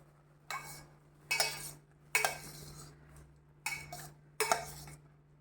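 Five separate bursts of metal clanking and scraping as a lid is lifted off a pot of boiling potatoes and a utensil stirs, over a low steady hum.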